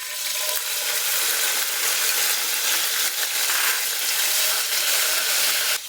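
Garlic cloves sizzle steadily in half a cup of white oil for a Bangladeshi loitta shutki bhuna, a continuous close, loud frying hiss with no one speaking.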